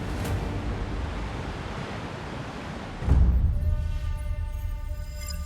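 Sediment-laden Yellow River water gushes from the Xiaolangdi Reservoir outlets during a sediment release, a constant powerful roar of rushing water that swells louder partway through, with no voices.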